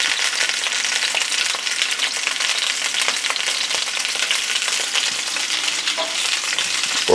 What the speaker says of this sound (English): That's why we're using the lard to fry them in.